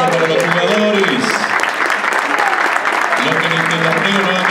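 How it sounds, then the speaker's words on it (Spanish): Stadium crowd applauding football players at a club kit presentation, steady loud clapping from a large gathering, with someone talking over it. "aplauso para los jugadores."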